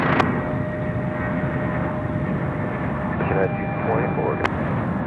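An airliner on runway 22 Left at Chicago O'Hare gives off a steady broad engine roar at a distance, with faint radio-like voices in the background.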